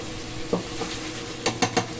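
Chicken and mushroom sautéing in oil, a quiet sizzle punctuated by a few sharp spoon scrapes against the pan near the end, close by and without speech.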